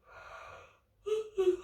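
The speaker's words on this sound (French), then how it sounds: "provoquez les bâillements, les soupirs." A person does a postural breathing exercise, letting out a long breathy exhale followed by two short voiced sighs or yawns, close and soft in a quiet room.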